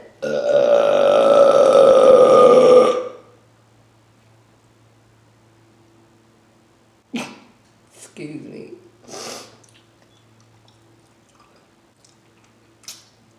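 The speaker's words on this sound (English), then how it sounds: "I do be seeing how long I can make the burp last" A long, loud, drawn-out burp after eating tacos, one continuous belch lasting about three seconds, followed by quiet chewing and mouth sounds.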